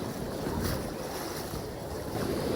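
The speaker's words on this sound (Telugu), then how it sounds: "అలలు అయితే చాలా హెవీగా ఉన్నాయి" Heavy ocean waves surge onto Mypadu beach in a continuous, loud roar, with wind buffeting the microphone throughout and no voices.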